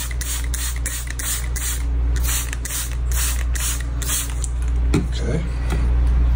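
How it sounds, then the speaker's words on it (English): Spray bottle misting hydroponic sunflower microgreens, a series of about a dozen short, evenly spaced hissing spritzes over a low steady hum, close up. "I felt them and they were a little dry, so I'm gonna give them a nice spritz."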